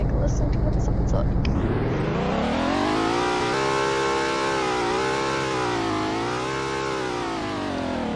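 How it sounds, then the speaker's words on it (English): A car engine in the video game Greenville revs up hard and holds a high, wavering whine that rises and dips over several seconds, loud and close. "You'll definitely hear it when I'm driving, and right now when I rev it."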